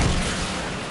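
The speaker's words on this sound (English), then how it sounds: "Oh, it's a rocket." A rocket launcher fires in Fortnite Chapter 2: one second of dense, loud, booming roar that fills the whole moment, with no speech.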